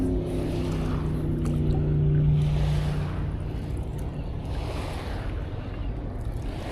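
A jet boat engine runs steadily close by on a river, a low droning rumble with a brief tonal whine, over wind and water noise.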